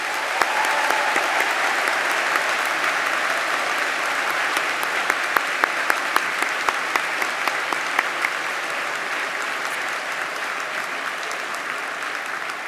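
Audience applause at a university graduation ceremony in a concert hall, a dense, steady wash of clapping from many hands that stays loud and even throughout.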